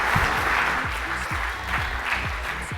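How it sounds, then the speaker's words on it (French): Audience applause at a French corporate presentation, dense steady clapping from a crowd throughout, with a few louder individual claps standing out. "Mesdames et messieurs, on les applaudit bien fort."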